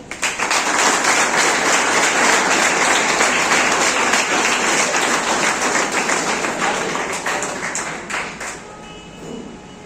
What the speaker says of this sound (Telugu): వన్స్ అగైన్ తనకి బిగ్ క్లాప్ అవ్వండి